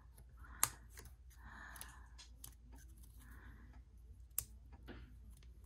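Small scissors clicking and scraping against a metal brad pushed through paper to spread its prongs, a few sharp close ticks over soft rubbing and handling, quiet overall.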